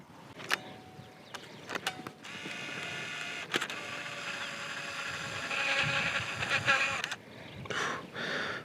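A Canon EOS IX Lite film camera loads and advances a roll of expired film with a motorized whir, several clicks before it, a sustained grinding drive, then sharp clicks and a brief second whir at close range.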